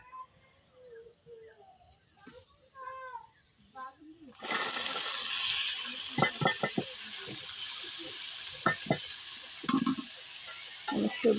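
Vegetables with green chillies sizzle and fry loudly in a pan from about four seconds on, broken by sharp scraping stirs, after someone speaks briefly at the start.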